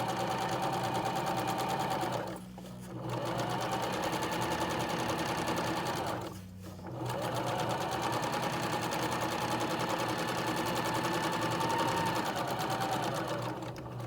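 Sewing machine stitching a hem on fabric, a close, steady mechanical whirring run that pauses briefly twice before resuming, with no talk over it.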